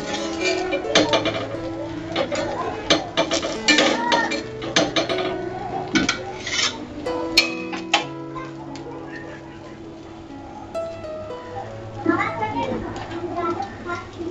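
A lid comes off a pan of Bata fish paturi and the gas is switched off in a family kitchen: close metallic clinks, scrapes and knocks of cookware against a steady background tone, with no clear speech.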